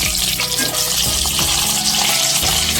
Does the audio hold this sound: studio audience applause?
no